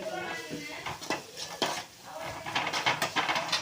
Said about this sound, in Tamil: இதை கொஞ்சம் நல்லா கொஞ்சம் ஃப்ரை பண்ணிக்கணும்.